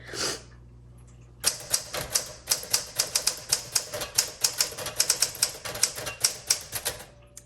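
Typing on a 1962 Smith Corona Sterling manual typewriter in seafoam green: after a quiet second, a close, loud run of sharp keystrikes clacks in an uneven rhythm, with no talk.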